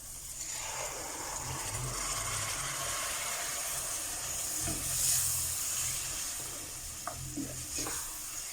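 Tomato, tin fish gravy and curry leaves dropped into hot oil in a pan, a loud steady hissing sizzle with a few stirring clicks toward the end, close up with no voices.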